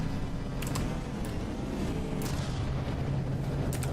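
Artillery barrage in the naval combat game From the Depths: a dense, continuous low rumble of heavy gunfire with several sharp bright cracks standing out, steady and loud throughout without any talking.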